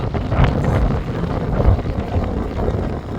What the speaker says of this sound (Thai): ลมแรงนิดนึงครับอุ๊บเอาไมโครมาเลย